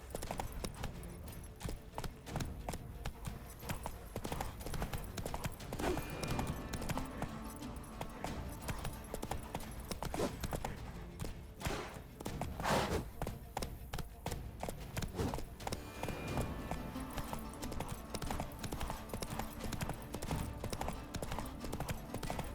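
Roach, Geralt's horse in The Witcher 3, gallops with fast, continuous hoofbeats at moderate volume, rhythm shifting slightly over twenty seconds, mostly alone with faint background sounds.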